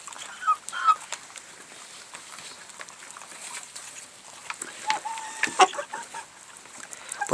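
Broiler chickens raised for meat cluck in scattered bursts at moderate distance, with a few sharper calls standing out against a faint, steady farm background.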